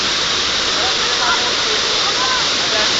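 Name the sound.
flowing water at a natural spring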